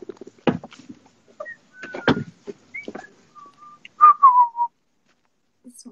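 A person whistles several short, clear tonal notes between soft knocks and handling bumps, ending with a brief warbling phrase, close and fairly loud in an otherwise quiet room.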